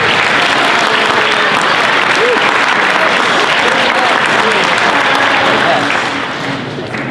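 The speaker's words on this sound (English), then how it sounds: "if you could give them a round of applause, please," Dense, sustained applause from an audience at a 50th-anniversary evening event honors the volunteers, loud and continuous for several seconds before beginning to fade, with faint voices mixed in.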